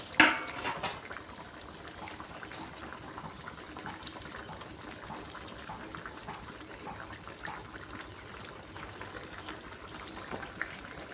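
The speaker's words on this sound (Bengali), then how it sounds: "একটু ফুটলে মাছগুলি সেদ্ধ হয়ে যাবে" Borli fish curry simmering in a pot, a steady bubbling seethe that carries on evenly after a brief clatter at the start, close and moderately quiet with no talk.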